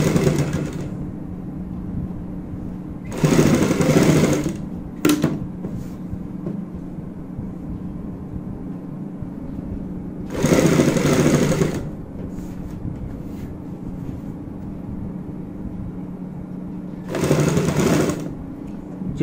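A sewing machine stitches a border along a kurti neckline in three separate loud bursts of fast, steady whirring, each lasting a second or two, with quiet pauses between them.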